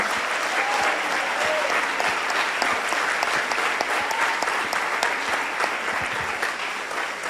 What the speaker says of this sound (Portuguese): Uma salva de palmas para esse.